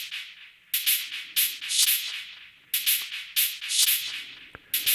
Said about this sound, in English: there is the shaker with some delay